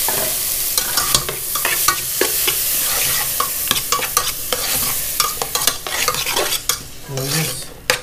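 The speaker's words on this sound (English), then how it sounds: "Now I'm gonna add the tomatoes." Tomatoes and onions fry in a hot pan for a catch-and-cook grouper meal, a steady close sizzle broken by repeated scraping stirs and clinks of a utensil against the pan.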